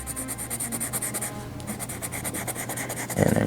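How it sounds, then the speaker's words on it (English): A red erasable colored pencil shading over a whole area of paper gives a close, steady scratchy rubbing in quick repeated strokes, a few seconds long and heard alone. "I've just been going over this, the whole area here, with this red erasable colored pencil"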